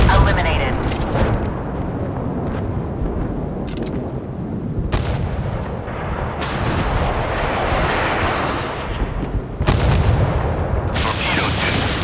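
Warship guns fire in the naval combat game Force of Warships, with heavy booming blasts that roll into a continuous low rumble, and sharp reports breaking in every few seconds, loud and dense throughout.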